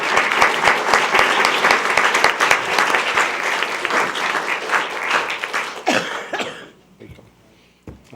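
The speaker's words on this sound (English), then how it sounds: "Give another round of applause." A board meeting audience gives loud, close applause after a performance, with dense clapping that runs for several seconds, then thins out and fades, with a cough or two near the end.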